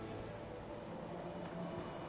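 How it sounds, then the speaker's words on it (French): Heavy rain pouring steadily onto surfaces, a dense, constant hiss with scattered drop patter, fairly faint, with no one talking. "Je me demandais simplement quand cette pluie infernale allait enfin cesser."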